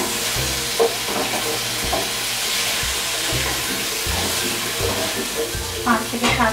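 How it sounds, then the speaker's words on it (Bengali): Potato pieces fry in a pan with ground coriander and a pinch of turmeric, a loud continuous sizzle broken by repeated scraping stirs of a spatula, close up and without talk. "মশলাটা আলুর সঙ্গে ভালো করে মিশিয়ে নিয়ে"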